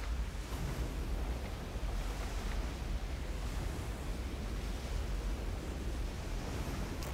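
A rough sea surges around a ship in Skull & Bones, a dense, constant roar of waves and wind with no distinct breaks, steady and moderately loud throughout.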